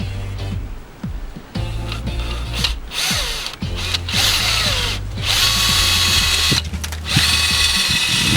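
A power drill whirs in short bursts while installing a hydrofoil on a 25 HP Johnson outboard, revving and stopping repeatedly with ratcheting clicks between, loud and close up.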